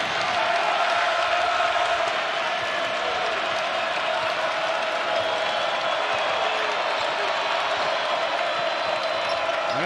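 TCU Horned Frogs home crowd at a men's basketball game against Baylor, a steady, loud roar of cheering and applause filling the arena without letup.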